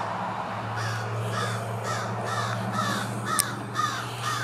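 Crows caw repeatedly in woodland near a dead bird, a run of rhythmic harsh calls at moderate distance over a steady low outdoor hum.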